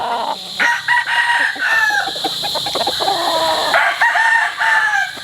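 A gamefowl brood cock of a Hatch signature line crows loudly and repeatedly nearby, with other roosters crowing and clucking around it on a farm.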